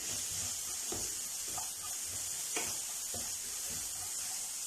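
Finely chopped onions sautéing gently in a pan for potato samosa filling, a soft, steady sizzle with light intermittent scraping taps from stirring, no voices.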